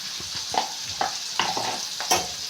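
Spices and turmeric being stirred in a hot pan, several close scraping strokes at an irregular pace over a soft continuous sizzle, with no voices.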